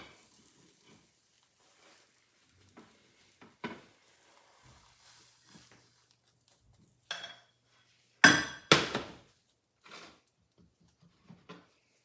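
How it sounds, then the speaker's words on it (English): A spatula scrapes and clinks against a plate while sliding a fluffy andouille sausage and pepper omelet onto it, giving two or three close, brief metallic clatters with quieter taps around them and no talking. "Now, I'm gonna put it on the plate, like so, with my spatula."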